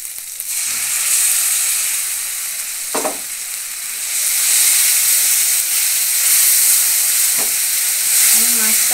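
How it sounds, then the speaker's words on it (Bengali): Tomato paste sizzles in hot oil over fried ginger-garlic paste for a katla posto fish curry, a steady loud frying hiss with a few soft stirring knocks and no talking. "আদা রসুনটা দিয়ে একটু ভেজে নিয়েছি। এবার টমেটো পেস্টটা দিয়ে দিচ্ছি।"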